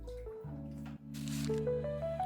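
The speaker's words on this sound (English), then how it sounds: "what I'm doing here is called efficiency. I'm draining and harvesting at the same time." Water drains and trickles from a Daphnia culture during harvesting, a steady close liquid flow with a brief gurgling splash midway, heard alone without talk.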